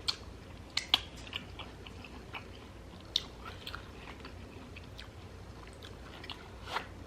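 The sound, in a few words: chewing crunchy jicama in carne asada tacos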